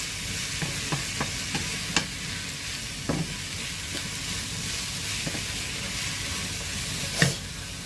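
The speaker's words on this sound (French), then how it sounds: "On mélange." Zucchini and eggs stirred in a pan, with a steady frying sizzle and light scraping clicks from the spoon recurring now and then.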